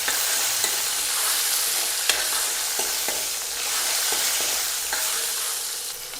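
Green chilies and curry leaves being stirred in a hot pan of oil for a Kerala-style moru curry, a bright continuous sizzle with scattered spatula scrapes and taps, near and unaccompanied by voices.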